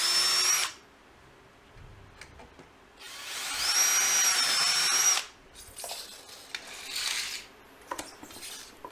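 A power drill whines in two loud bursts while bolting a grass flap chute blocker with T-nuts onto a mower, followed by quieter clanks and handling noises.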